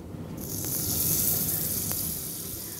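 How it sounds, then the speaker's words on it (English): Butter hits a hot pan and sizzles, a bright steady hiss starting abruptly and holding close and fairly loud, with a couple of faint clicks under it. "So in goes the butter."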